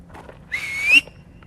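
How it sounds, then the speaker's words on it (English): A person whistles outdoors at night, one rising, slightly wavering tone about half a second long that ends on a sharp upward sweep, clear and fairly close over quiet background. "All right, I'm gonna whistle."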